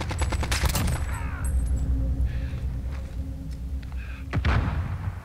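Video game gunfire in Call of Duty Warzone at Verdansk stadium crackles as a burst of loud shots early on, then scattered distant firing and game effects follow.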